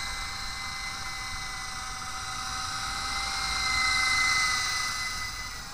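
A Silverlit V-150 RC helicopter flies nearby with a steady high-pitched rotor and motor whine that swells slightly louder midway through, with no voices over it.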